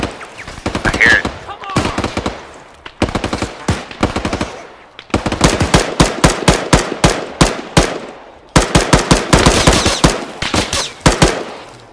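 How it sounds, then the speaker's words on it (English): Bursts of PKM machine gun fire in Arma 3 during a market place firefight, loud rapid volleys in several long strings separated by short pauses, close and sharp. "got a PKM on that corridor"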